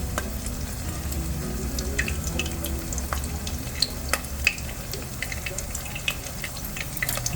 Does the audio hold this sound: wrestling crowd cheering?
no